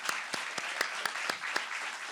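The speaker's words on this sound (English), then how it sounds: "now we're getting ready to give you applause" Audience at a ministry awards gala applauds, scattered claps with several sharp distinct hand claps standing out at a steady pace over a busy background murmur.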